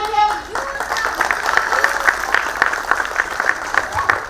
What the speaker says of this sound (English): Keep clapping for your friends.